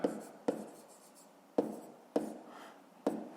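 Pen strokes on paper while working a math exercise, five sharp taps of writing spaced unevenly, close and quiet, with no talking.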